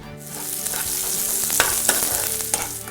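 Onion and green chillies frying in a little oil in a pan, a steady close sizzle with a few sharper crackles and pops from stirring.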